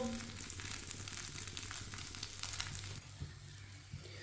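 Two slices of bread for a sandwich cooking in a pan on the stove, a steady quiet sizzle that continues evenly and softens slightly toward the end.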